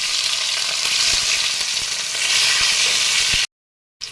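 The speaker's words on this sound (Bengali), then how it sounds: "আলু শুধু তেলের মধ্যে ছেড়ে দিচ্ছি।" Potatoes dropped into hot oil for dhokar dalna sizzle loudly and continuously, a bright crackling hiss with scattered pops, cut off abruptly near the end before a brief return.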